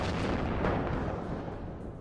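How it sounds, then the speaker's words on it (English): Artillery firing in the video game WARNO, heard as a dense, loud rumbling roar of distant guns that swells briefly and then slowly fades, with no voices. "Firing artillery now at his artillery, I believe."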